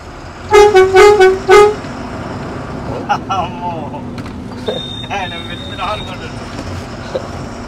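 A lorry's air horn blasts four times in quick succession, loud and close, followed by the rumble of the idling truck with people talking over it.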